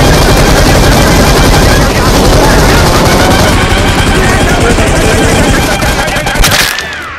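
Sustained automatic gunfire in PUBG Mobile, a dense, loud, continuous burst of rapid shots lasting several seconds before cutting off abruptly near the end, close and overpowering.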